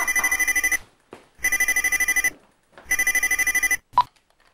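An old-style telephone rings loudly and close by in three long electronic trilling bursts separated by short gaps, then a brief clunk as the receiver is picked up.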